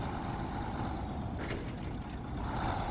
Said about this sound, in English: Engine sounds on this truck, as always, with any mod that Iceberg does, absolutely incredible